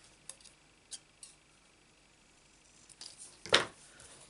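Paper being cut for a Stampin' Up handmade card: a few faint, sparse snips and ticks in a quiet room, then a sharper, louder cutting crunch near the end.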